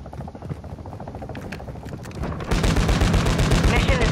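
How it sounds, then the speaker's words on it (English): Call of Duty chopper gunner helicopter opening fire, loud sustained rapid bursts of gunfire that jump up sharply midway and continue densely over the game's battle noise, with faint voices underneath. "Friendly chopper gunner servicing targets."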